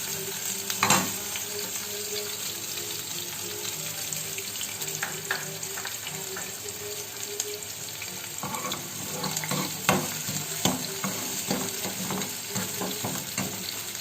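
Onions fry in a pan for a potato curry, a quiet, even sizzle with occasional clicks and scrapes of stirring over fourteen seconds, close by and with no talking.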